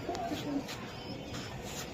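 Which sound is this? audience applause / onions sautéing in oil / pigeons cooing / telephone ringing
pigeons cooing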